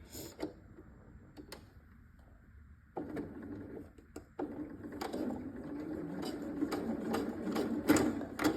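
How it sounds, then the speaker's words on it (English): A sewing machine runs in bursts of rapid mechanical stitching, starting and stopping a few times, then running steadily louder toward the end. "Let's hope that my sewing machine doesn't decide to eat my fabric again."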